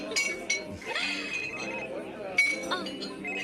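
Glasses clink together in a toast, with several sharp bright chinks standing out over ongoing conversation and chatter in a close indoor setting.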